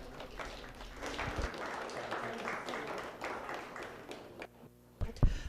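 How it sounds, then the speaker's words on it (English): Scattered applause from spectators at a Guernsey dairy cattle class in a livestock show barn, a light, uneven patter of clapping that swells and fades, followed by a few louder knocks near the end. "Let's give our Guernsey exhibitors a round of applause today."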